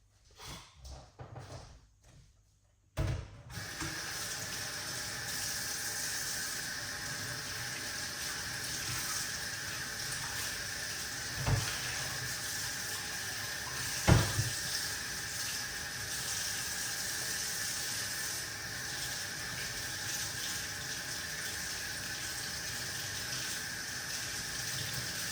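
Tap water runs steadily into a kitchen sink over fresh parsley being rinsed. A brief faint clatter comes first, then a continuous hiss of flowing water with a couple of soft thumps.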